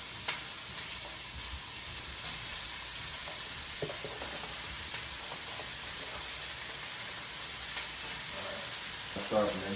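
Beef sizzles in a cast iron pan, a steady soft frying hiss running throughout with a few faint clicks and a slight rise at the end.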